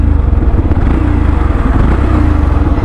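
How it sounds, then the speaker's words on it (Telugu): A 2024 Yamaha FZS V4 motorcycle engine idles in neutral, giving a steady, loud, close-up low rumble with an even throb and no revving. "so న్యూట్రల్లో engine క్రాంకప్"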